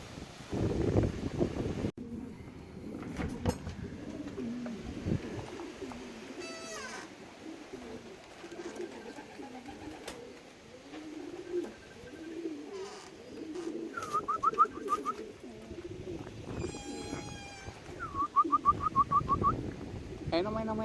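Racing pigeons at a loft after a 359 km race from Mlawa coo steadily, with repeated soft rolling calls and a few brighter chirps, while someone talks quietly nearby at intervals.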